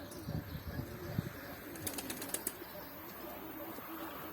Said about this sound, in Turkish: Saldığım kuşlar da kalktı arkadaşlar